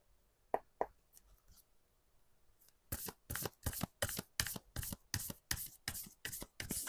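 Oracle cards being shuffled by hand, a few soft taps at first, then a steady run of about a dozen crisp riffling bursts, close and clear with no talking.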